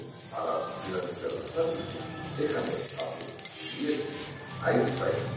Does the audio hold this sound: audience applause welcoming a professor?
no